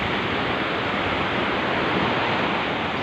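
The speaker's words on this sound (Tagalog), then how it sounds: "Grabe, lakas ng alon." Strong sea waves churn during a storm off Isla Verde, a dense, loud, unbroken roar of surf and wind-blown water with no pauses.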